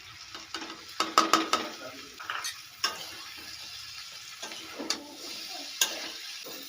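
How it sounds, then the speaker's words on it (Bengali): Fried potato and pumpkin pieces with spices get stirred in a pan, producing irregular scraping and clinking strokes over a soft continuous sizzle, close by and with no voices. "ভালো করে মশলার সঙ্গে আলু ও কুমড়োটা মিশিয়ে নেব"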